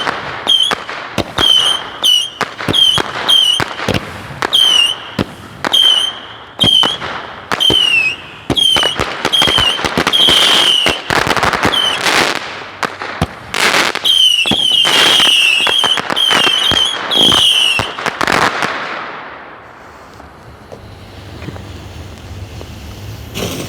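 Fireworks and firecrackers for the Year of the Snake, including candles and crossfire effects, burst in a dense, loud volley of sharp bangs, crackles and whistling rises for about eighteen seconds before fading to quiet outdoor ambience.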